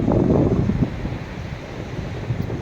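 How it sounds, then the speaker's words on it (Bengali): Sea waves and wind at a beach beside a row of shops, a steady low rumbling roar of surf and gusting wind buffeting the microphone, loudest at the start and then settling into a constant wash. "আমি এখন চলে এসেছি সমুদ্রে, আবার এসে গেছি।"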